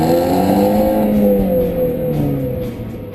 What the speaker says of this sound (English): the Multiair has the kind of exhaust note you might expect from a slammed Honda Civic